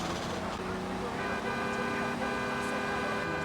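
A car horn honks in GTA Vice City amid steady traffic and engine noise, with talking over the top.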